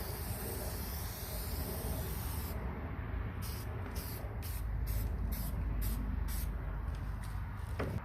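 Protective coating sprayed from an aerosol can onto a car headlight during a DIY two-step restoration, heard as a run of short, close hissing bursts in quick succession after a steady background rush.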